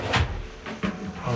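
Cabinet drawer in a newly built countryside house in Yeoju, sliding open or shut with a couple of nearby wooden thuds and a soft rolling rumble, no talk.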